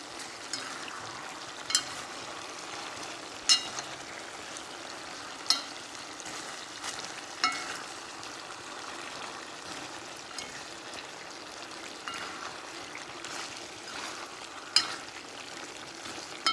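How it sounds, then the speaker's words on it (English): Jamaican curry chicken sizzling and frying in a pot while being stirred, a steady crackling hiss with occasional soft scrapes and clinks of the spoon, no voices. "I'm just stirring this around"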